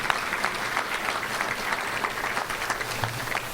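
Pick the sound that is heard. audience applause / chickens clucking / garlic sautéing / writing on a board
audience applause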